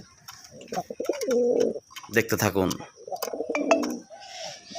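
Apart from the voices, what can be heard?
male pigeon cooing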